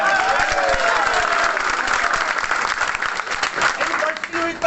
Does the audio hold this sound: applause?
yes